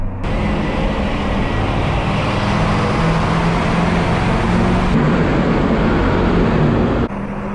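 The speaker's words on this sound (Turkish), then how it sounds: "Turbo sesi." A loud, steady 8.2-litre V8 engine roar from a GMC Bluebird bus, with a high turbo whine layered on top, close by and continuous, dropping slightly at the end.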